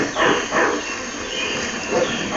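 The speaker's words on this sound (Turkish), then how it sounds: "Bak karşıda da bir köpek var." A dog in the Disney Pixar Up video game barks a few times in quick succession, loud and close, over a constant game background.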